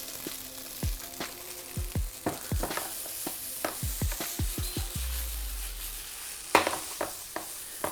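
Rice and tuna frying in a pan for a chili crispy rice dish, with a steady sizzle throughout and frequent scraping, knocking stirs of a utensil against the pan, one louder clack near the end.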